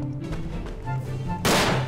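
A single loud, sharp blast of gunfire, friendly fire in the WWI shooter game Verdun, cuts in near the end after a stretch of quieter background battle noise.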